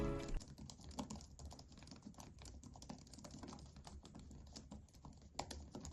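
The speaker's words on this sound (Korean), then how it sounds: "그럼 타이핑 소음도 한번 들려드리겠습니다." Fast, light clacking of keys on a compact Logitech Keys-To-Go 2 portable keyboard, a brisk continuous stream of keystrokes heard up close with no voices.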